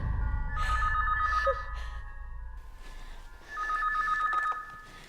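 An old-style telephone bell rings in two bursts, each about a second long, with a pause between them. A soft breath or sigh and faint room rumble are heard underneath.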